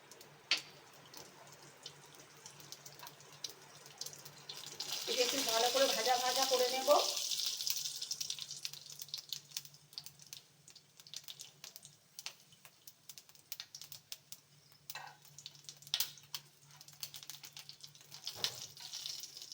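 Two dry red chillies and panch phoron crackle in a spoonful of hot oil for a mango and grape chutney. A bright sizzling burst swells for a few seconds, then settles into faint pops and light clicks.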